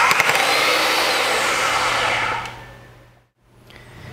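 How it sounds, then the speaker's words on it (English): An AGP DB32 handheld mini pipe bender runs with a steady electric motor whine as it reverses, then winds down to a brief silence before a faint restart hum. "The machine will first back out about 15 degrees and stop."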